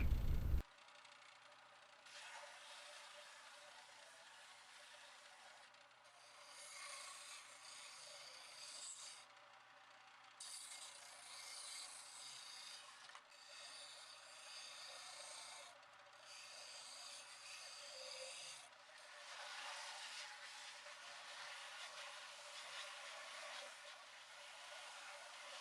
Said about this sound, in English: I'll just sand these down,